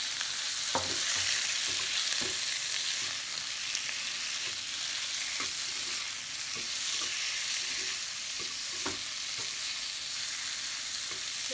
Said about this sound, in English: Now I will fry the shrimp separately.